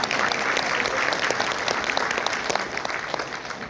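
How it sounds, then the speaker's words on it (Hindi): A crowd at an investment plan meeting in a Kolkata hotel bursts into loud, continuous applause, dense rapid clapping close by that holds steady and eases off slightly at the end. "जोरदार तालियां"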